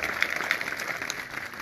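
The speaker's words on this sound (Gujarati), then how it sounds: "એમના માટે જોરદાર તાળીઓ પડે" An audience at a Kshatriya Thakor Sena felicitation ceremony in Anand applauds for MLA Kantibhai Sodha Parmar, soft, far-off clapping spread over a steady crowd murmur.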